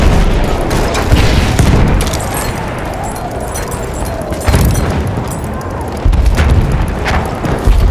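Grenade blasts and gunfire from Battlefield 1 rumble through a loud battlefield, with heavy booms near the start and around the middle and end, layered over constant distant shooting and chaotic noise.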